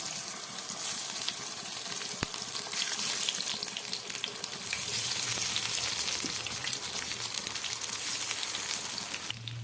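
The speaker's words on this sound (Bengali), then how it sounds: "এই বেগুনগুলোকে একদম গ্যাস কমিয়ে হালকা করে ভেজে নিতে হবে" Eggplant slices coated in spice and gram flour fry gently in a pan on low heat, making a soft, even crackle and patter like light rain that continues throughout, fairly quiet and without talking.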